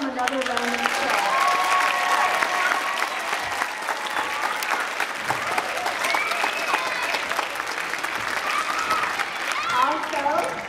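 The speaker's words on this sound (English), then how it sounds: "Let's give them another round of applause." Sustained clapping from an audience at an elementary school music performance, dense and steady for the full stretch with some voices and whoops mixed in.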